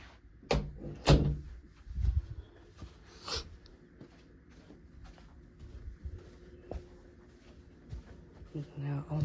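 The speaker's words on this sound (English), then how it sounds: "Now I'm about to close back this door." A house door swung shut, giving a couple of loud, close wooden thuds near the start, followed by quieter room noise and a person talking.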